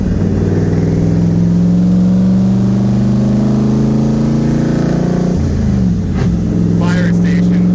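Nissan Z31 with IMSA widebody kit pulling hard, its engine droning loud and steady as it climbs through the revs, then briefly dropping and rising again near the end, with the in-car drone constant throughout.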